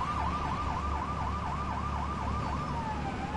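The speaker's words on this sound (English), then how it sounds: "Grace, police car." Wailing police car siren from Lego City Undercover, a steady rising-and-falling tone repeating quickly, loud and continuous over a low engine rumble with no talk.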